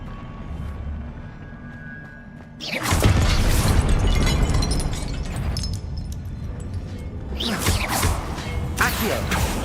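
Spell blasts in Hogwarts Legacy: a quiet stretch gives way to a loud explosive burst with crashing debris and whooshes, followed by another impact a few seconds later, with no talking.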